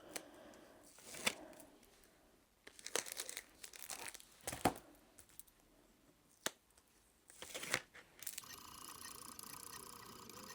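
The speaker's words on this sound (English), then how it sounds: "all I'm doing now is just putting all the price stickers on" Price stickers crinkle and tear as they are peeled off and pressed onto items in bursts of crisp papery rustling, separated by quieter pauses, close up with no talking.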